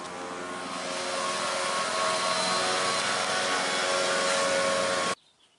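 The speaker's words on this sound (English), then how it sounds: "I'm looking at a guy with a leaf blower right now" A leaf blower runs steadily in a neighbouring yard, its continuous broadband roar holding at an even, moderately loud level for about five seconds before cutting off abruptly into quiet.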